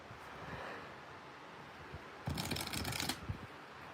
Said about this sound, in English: All right, we're going to shuffle real quick.